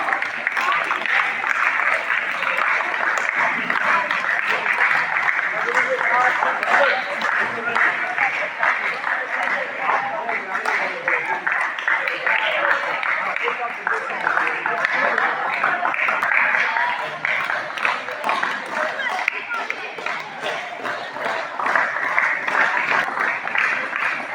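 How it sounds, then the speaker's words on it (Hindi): Village crowd applauding to welcome a coach, a long sustained stretch of dense, loud clapping from many hands, steady throughout with occasional voices mixed in. "आपके कोच का स्वागत है तालियों की गड़गड़ाहट से"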